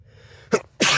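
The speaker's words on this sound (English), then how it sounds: "I just had to sneeze real quick." A single person sneezes sharply, with a quick intake of breath followed by a loud, explosive burst at close range.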